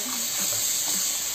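A steady stream of tap water hisses into a sink while fresh anchovies are rinsed, with faint splashing and soft shifting sounds beneath the constant flow.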